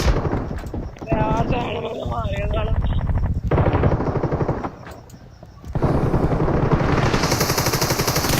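Gunfire in PUBG Mobile's Frost Festival mode: loud, rapid automatic bursts and single shots crackling close by, with a voice talking over part of the battle.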